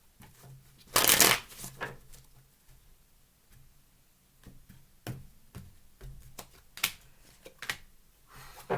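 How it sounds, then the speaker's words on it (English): Tarot cards riffle and shuffle in quick bursts, one loud riffle early on, then softer taps and snaps of cards being handled. "Last shuffle."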